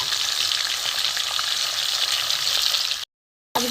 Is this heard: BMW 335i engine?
no